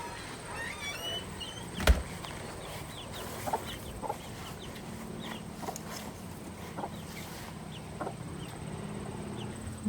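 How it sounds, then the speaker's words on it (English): Backyard hen with her chicks foraging under a structure on a farm, giving faint scattered clucks and soft peeps over a low steady outdoor hum, with one sharper bump near the start. "And the mother and the chicks keep on going underneath there."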